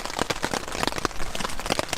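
Rain falling at an overnight backpacking camp, a dense, steady patter of drops striking a nearby surface, continuous throughout with no talking.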